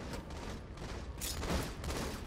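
Rapid bursts of Halo video game gunfire in a competitive King of the Hill esports match on Lockdown, dense and continuous with several overlapping shots, loud throughout.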